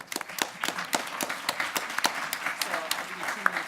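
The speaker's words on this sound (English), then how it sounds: "Give him a round of applause." Audience applause at an evening school deans public forum: a burst of clapping from a crowd that holds steady throughout, with voices mixed in beneath it.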